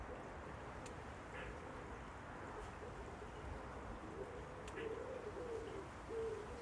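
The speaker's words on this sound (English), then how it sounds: "Because always wood pigeon." Wood pigeons coo softly at a distance outdoors, a few low repeated calls rising above steady faint background noise toward the end.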